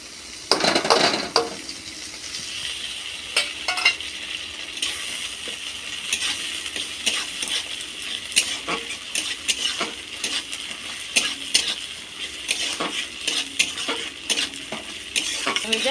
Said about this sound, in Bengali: পেঁয়াজ একটু ভাজা ভাজা হয়েছে এবার আদা রসুন বাটাটা দিয়ে দেব